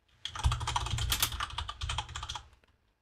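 Fingers tap rapidly on a computer keyboard up close, a quick, irregular run of crisp clicks lasting about two seconds before trailing off into silence, with no talking.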